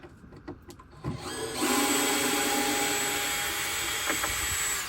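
A few light clicks and taps, then a power drill whirs steadily for several seconds, close by, driving screws out of a wooden deck before sanding.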